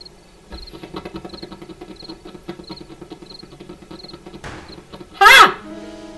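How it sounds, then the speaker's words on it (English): Video game crickets chirp in a steady repeating pulse against a quiet ambient bed, moderately close, followed near the end by a brief loud burst of another sound. "Crickets!"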